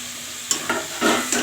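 Chicken pieces hit hot oil and fried onion paste, sizzling steadily with a few sharp clatters and scrapes as the mixture is stirred in the pan, close and fairly loud, with no talking.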